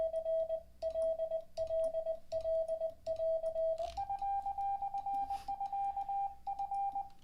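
Morse code practice tones sound as clean, moderately loud beeps keyed in short and long pulses, with the pitch stepping up slightly midway and then continuing in the same on-off rhythm.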